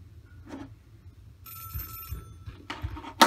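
A payphone in a phone booth rings in the video game Celeste, a few electronic trill bursts rising out of near silence and growing louder toward the end.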